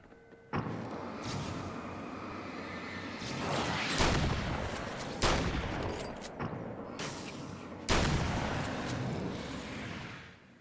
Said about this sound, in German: Da zeigt sich der Vorteil einer streuenden Pumpgun.